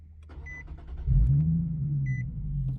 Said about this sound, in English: I am going to start the car here to make sure that it does work.